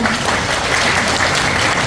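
Audience members at a talk show marking a cultural institute's anniversary burst into a short, loud round of applause, a dense, even crackle of many hands.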